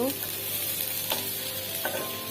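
Green chilies and onion frying in a little mustard oil, a bright continuous sizzle with a few stirring scrapes.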